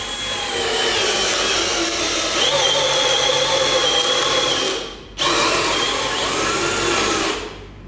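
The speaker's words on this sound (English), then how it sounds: "So, what I have put here is a spade bit. So, we are going to work on a plywood" A Bosch GSB 185 LI cordless impact drill boring a spade bit into plywood, a loud steady whining drone that cuts out briefly near the five-second mark, then resumes before winding down.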